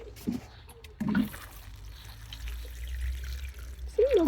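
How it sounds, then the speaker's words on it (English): Water poured from close by onto the soil of a freshly planted young cucumber in a large pot, a soft trickling pour with brief splashy bursts, faint voice sounds around it. "Let me just water him."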